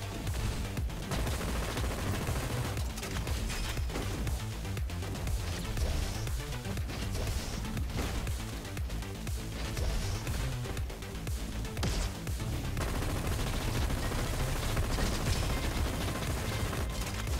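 Dual Uzis fire in the video game Roboquest, a dense, continuous rapid-fire rattle of gunshots that barely lets up, loud and close with scattered impact crashes.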